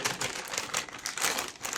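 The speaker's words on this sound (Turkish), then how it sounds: "Şimdi şuradan bir yerde yırtalım kargo poşetini." A plastic cargo bag holding a package of car accessories is torn and crinkled open up close, giving a dense run of rustling, crackling bursts with no pauses and no talk.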